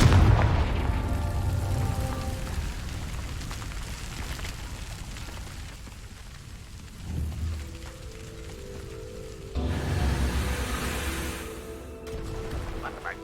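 The Confringo fire spell explodes in the game Hogwarts Legacy, giving a deep booming blast with a rumbling roar that fades, then another burst later, set over ongoing crackling game ambience.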